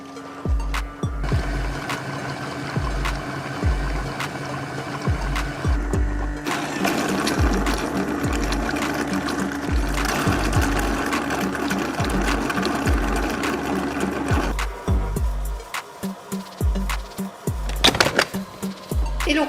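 An Ecovacs Deebot X11 robot vacuum-mop fills and heats its water, giving off a steady mechanical pumping whir with a rapid, repeating pulse and occasional clicks, close and fairly loud throughout.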